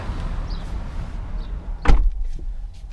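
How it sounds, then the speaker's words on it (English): A Lexus LX570 SUV door swings shut with a single solid thud, following a quiet stretch of low rumbling background noise. "Let's shut door properly here."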